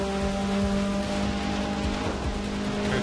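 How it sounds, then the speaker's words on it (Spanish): Heavy rain in the racing video game Forza Motorsport 6 pours steadily over a droning engine hum, a dense wash of drops with a faint low rumble, no talking. "Qué chulo la lluvia."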